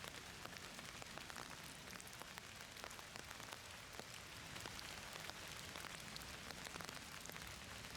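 Rain falls during a disc golf tournament round, a faint, even hiss of drops pattering on surfaces with scattered tiny ticks, steady throughout and no voices.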